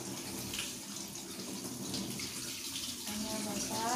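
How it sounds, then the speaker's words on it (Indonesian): Water is poured from a watering can over bean sprout growing media, a steady close splashing and trickling rush that continues throughout. "untuk nyiramnya kita siram dengan curan, pastikan semuanya dapat."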